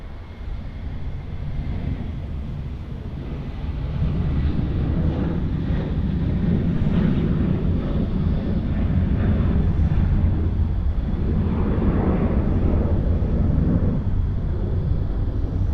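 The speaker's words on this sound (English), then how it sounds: "We have another departure here on runway 34 right. This is going to be Virgin Australia flight 1139 off to Ballina." A Virgin Australia passenger jet departs Sydney Airport's runway 34 right; a steady, broad jet roar holds for the whole stretch, swelling slightly midway, with wind buffeting the microphone.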